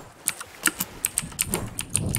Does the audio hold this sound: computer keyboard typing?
yes